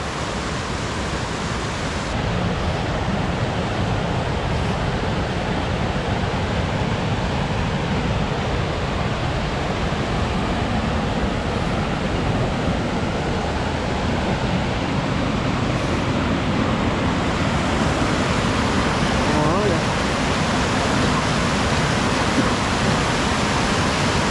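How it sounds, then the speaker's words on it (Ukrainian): Huk waterfall in the Sheshory resort area of Ukraine, a loud, steady broadband roar of falling water that stays constant and close for the whole stretch, with no voices. "Наступна локація наша це водоспад Гук"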